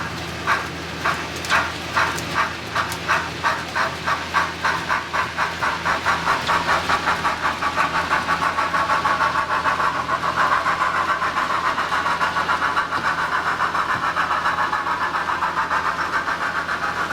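An engine cranks with rapid rhythmic chugs, then catches and runs steadily at a medium rumble, with no voices.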